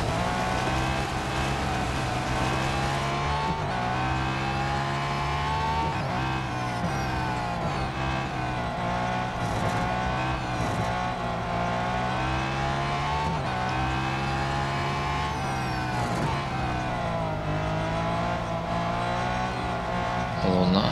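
A Porsche race car drives in Real Racing 3, its engine droning steadily and loudly with shifting pitch and occasional tire squeal, close and continuous with no pauses.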